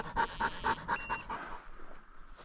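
Hunting dogs on an Arizona Mearns quail hunt pant rapidly in a close, steady rhythm, the quick breaths fading after about a second and a half.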